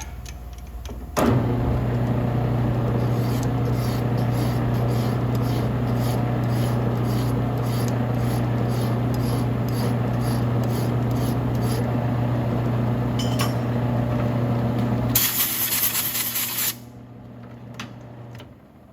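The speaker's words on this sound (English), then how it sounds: "take the file to this and file the outside of the diameter" A hand file is drawn repeatedly across the outside of a metal shotgun magazine tube from a Turknelli, making rhythmic rasping strokes over a constant loud mechanical hum that cuts off near the end.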